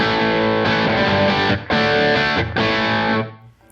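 Slightly driven electric guitar tone through a Safari Pedals Rabbit Tape saturation preset, with studio reverb, EQ and an impulse response: three strummed chords ring in close succession, each cut briefly before the next, then fade out.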